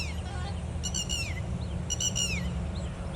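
A bird near a lake where snakehead fish are being caught calls in two quick bursts of chirpy, falling whistles, clear against a steady low outdoor rumble.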